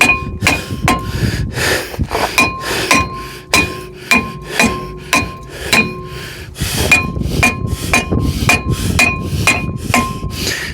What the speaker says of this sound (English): Kind of got to beat that until you get the little rust ring off the center there.